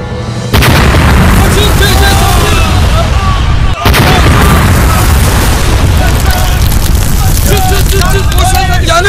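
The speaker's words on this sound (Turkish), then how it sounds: "Füzeler köyü vuruyor." Missiles strike a village in a continuous loud barrage of booming blasts and rumbling explosions, heavy and close, with a brief cut midway before the roar resumes, while voices are faintly present.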